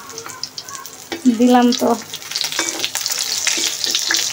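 Samosas sizzle and crackle as they fry in hot oil, a steady close frying hiss with some stirring and handling clatter, while someone speaks briefly over it.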